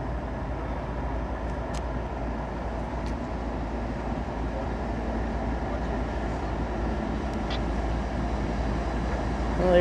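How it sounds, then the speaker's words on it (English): A rescue locomotive approaching to help a westbound freight train that lost one of its engines, heard as a steady low diesel rumble that slowly grows louder over the whole stretch, with no talking. "here comes the rescue power"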